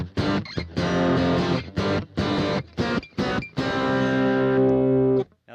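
Electric guitar on the bridge pickup through a diode-modded Boss DS-1 distortion pedal with distortion at 3 o'clock, played as a run of loud, saturated chord hits separated by short gaps, ending on one long ringing chord.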